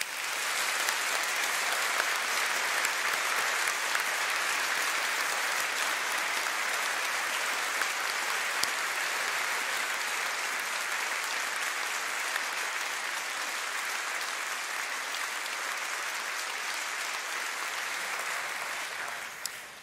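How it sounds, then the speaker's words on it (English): A congregation in a large tent at the Keswick Convention remembrance service applauds in thanks and praise, a broad, even wash of clapping that holds steady for about twenty seconds before fading at the end. "we applaud."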